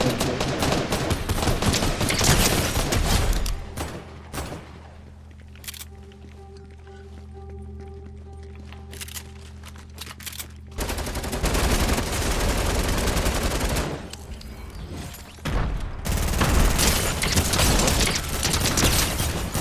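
Dense bursts of Fortnite Zero Build gunfire fill the clip, pausing for a few seconds of steady droning tone before the rapid shooting resumes, loud and close.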